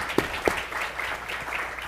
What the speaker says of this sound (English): so we can give you all a round of applause